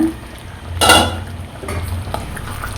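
A metal lid lifted off a pot of plantain curry in a home kitchen, giving one sharp clattering clink followed by a few lighter utensil taps, fairly close and with no talk.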